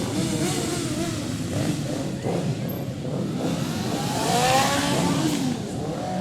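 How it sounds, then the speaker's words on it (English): Many motorcycles rev their engines at an Independence Day parade, a dense, continuous mid-pitched roar with rising revs, steady and fairly loud throughout with crowd murmur beneath. "there are just so many motorcycles out there revving up their engines"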